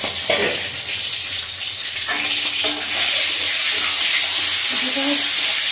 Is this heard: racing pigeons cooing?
no